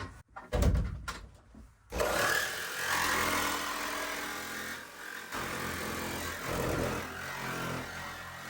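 A saw blade cuts through van body metal to open a window hole, a steady rasping grind running loud and continuous after a short burst of knocks at the start.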